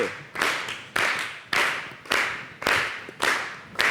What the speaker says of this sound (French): On bat les mains, c'est ça?